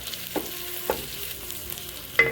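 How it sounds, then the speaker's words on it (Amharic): Chopped garlic fries in a pan for vegan Ethiopian-style shawarma, with a soft, close sizzle broken by a few scraping stirs. "አብረን የተወሰነ እንጠብሰዋለን።"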